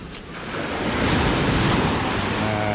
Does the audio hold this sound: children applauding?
no